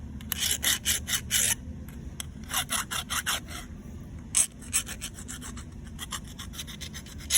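Sandpaper or a file scratching a crosshatch into a metal surface of a Honda/Briggs-style recoil starter part, heard as rhythmic bursts of rasping strokes, close and fairly loud with brief pauses between sets.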